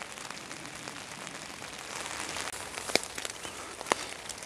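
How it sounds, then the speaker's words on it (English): Steady rain falls on an allotment garden, a soft, even hiss of drops filling the whole stretch, with a couple of brief louder taps standing out near the end. "The rain hasn't stopped"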